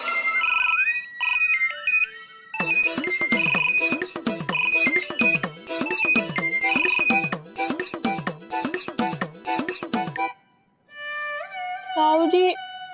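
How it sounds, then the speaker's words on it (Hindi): A phone ringtone plays a repeating melodic electronic tune, loud and continuous for about ten seconds with a brief different chime near the end, set in a household comedy scene. "पापा जी गुन्नू को फोन कर रहे हैं।"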